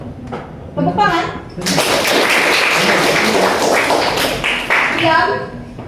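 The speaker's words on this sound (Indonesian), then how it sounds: "tepuk tangan." Children clapping their hands in a classroom game led by a teacher, a dense burst of many claps lasting several seconds, with the teacher and children speaking before and after.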